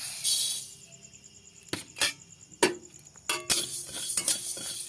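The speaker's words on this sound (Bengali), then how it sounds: "এই যে কড়াইটা গরম হয়ে গেছে দিয়ে দেব ধনে" Whole coriander seeds tipped into a hot, dry kadai while spices are roasted for a Bengali-style mango oil pickle, giving scattered clinks and metallic scrapes with short bursts of sizzle, close and fairly loud, no voices.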